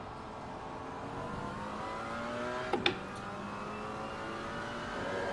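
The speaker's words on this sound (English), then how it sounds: "It's crazy how different the McLaren sounds to the Camaro." A steady mid-pitched engine drone from a McLaren race car in Assetto Corsa Competizione at Misano, holding speed, with a brief sharp blip midway, fairly quiet throughout.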